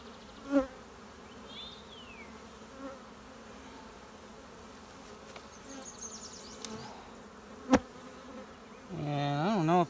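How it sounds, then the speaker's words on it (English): Honey bees buzz around an open hive during an inspection, a faint continuous hum with a few individual bees passing close, a couple of sharp knocks, and a louder bee buzzing right at the microphone at the end. "Besides a few bees coming at my face, they're actually really calm."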